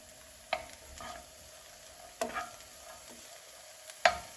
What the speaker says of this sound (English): I'm just going to move this around and turn my heat up